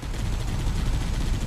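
Gunfire in Halo Combat Evolved Anniversary rattles steadily, a dense, loud stream of rapid shots and battle noise with no pause and no talking.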